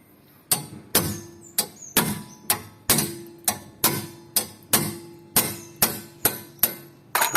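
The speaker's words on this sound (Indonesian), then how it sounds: "Ini kita pukul aja pakai palu biar tangannya enggak" A hammer strikes a spanner on the 17 mm brake caliper bracket bolt of a 2007 third-generation Honda CR-V, about fifteen sharp metallic blows at a steady rhythm, close and loud, with no talking.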